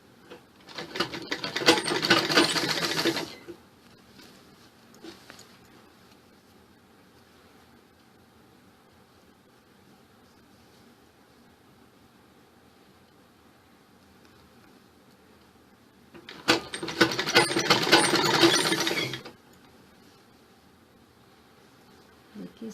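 A sewing machine stitches the shoulder seam of an A-line suit in two loud, rapid whirring bursts of a few seconds each, separated by a long quiet stretch with faint handling noise.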